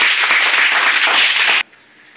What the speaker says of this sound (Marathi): चला गणेशसाठी टाळ्या वाजवा.